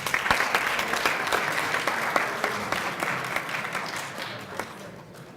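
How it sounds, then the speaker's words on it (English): A university debate audience gives a round of applause, with sharp individual claps standing out from a moderate crowd patter that gradually thins and softens toward the end. "Can we give you a round of applause?"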